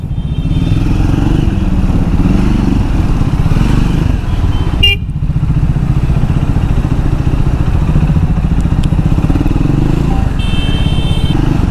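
A Triumph Speed 400 motorcycle rides through city traffic in Thane, its engine droning loud and steady throughout with a constant throbbing rumble, brief clatter midway and no one speaking.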